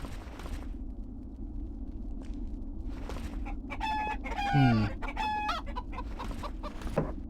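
Chickens cluck and a rooster crows in the video game Arx Fatalis, over a steady background hum, with several bursts of clucking in the middle of the stretch and no talking.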